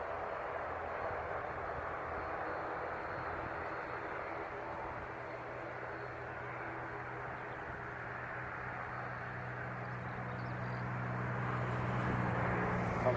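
An All Blacks-liveried airliner taxis onto runway 02 at Christchurch Airport, a distant, steady engine drone that swells slightly toward the end, heard faintly from outside.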